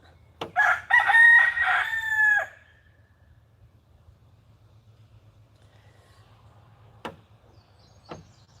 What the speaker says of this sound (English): it's a little excessive, the crowing